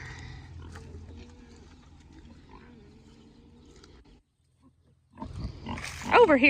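Full-blooded Tamworth pigs give loud grunts and squeals near the end, following a low, quieter stretch of background sound with faint animal noises.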